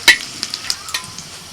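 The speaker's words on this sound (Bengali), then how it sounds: "এলাচ দারচিনি লবঙ্গ শুকনো লঙ্কা তেজপাতা ফোড়ন দিয়ে দিয়েছি" Whole cardamom, cinnamon, cloves, dried red chillies and bay leaves crackle in hot oil for tempering a pointed gourd and potato curry, a sharp burst of spattering followed by a few lighter pops and scrapes.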